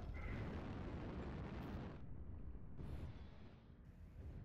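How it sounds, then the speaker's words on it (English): Artillery strike explosions in MechWarrior Online rumble as a dense, continuous roar of heavy blasts, loud and close, easing slightly then swelling again, with no talking. "I gave him a second artillery strike"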